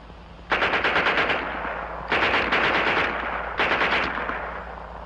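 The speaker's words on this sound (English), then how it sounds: "And here's their Schmeisser." A German Schmeisser submachine gun fires three separate bursts of rapid automatic shots, each lasting under a second, loud and close, with a short ring-off after each burst and no talk.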